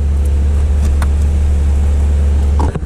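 A 2021 Porsche 911 engine runs at a loud, steady idle with a deep, continuous rumble, heard up close and alone, before cutting off abruptly at the very end.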